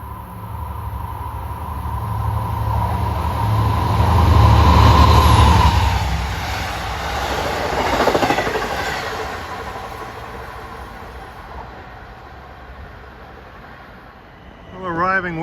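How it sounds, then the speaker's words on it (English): Long Island Rail Road train 658 from Long Island City to Port Jefferson passes eastbound on triple track at Westbury, a loud rumbling approach that swells, peaks and fades, with a horn blast and someone talking over it. "here comes 658 from Long Island City to Port Jefferson"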